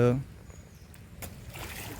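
Water splashed about playfully during a rainy-season outing, a brief rushing splash burst followed by a continuous close, noisy spray, with a voice heard briefly at the start.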